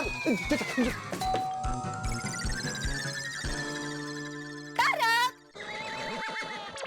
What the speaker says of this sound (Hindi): डोरबेल मैं बजा देता हूँ